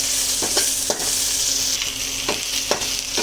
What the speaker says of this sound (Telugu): ఇవి వేయించే వరకు కలుపుతూ ఉండాలి.